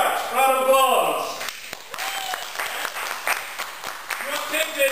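Audience applause at an improv comedy show, with clapping and cheers rising and falling around voices and laughter that dominate much of the stretch.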